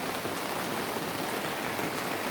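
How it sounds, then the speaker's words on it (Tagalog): Steady rain falls continuously with an even, dense hiss of drops on surfaces, moderately loud and unbroken, with no voices. "Kay nagwan-uwan."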